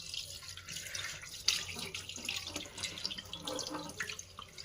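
Fish washed by hand under a running kitchen tap, with a steady close splash of water broken by irregular sloshing and handling sounds.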